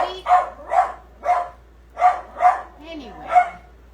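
A dog barks seven times in a loose, evenly spaced series, close and clear against a quiet indoor background, with a brief whine between barks.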